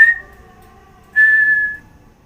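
Two clear whistled tones through pursed lips, a sustained note followed after a pause by a second, louder one, alone with no talking.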